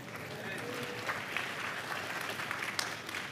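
A church congregation claps during a pastor's sermon, a broad sustained wash of many hands at moderate loudness, with occasional sharper individual claps standing out toward the end.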